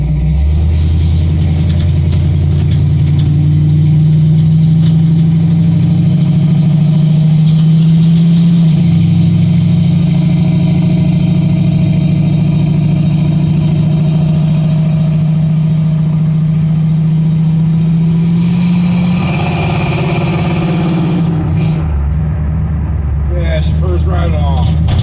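An old 1955 car's engine runs steadily for most of the stretch with a deep, loud idle-like drone, then shifts in pitch near the end as it changes pace; a breezy outdoor setting with some voices underneath.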